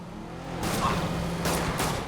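Cars roar past in a chase in Marvel's Spider-Man on PS4, two loud engine and tire surges sweeping by in quick succession over a steady low hum.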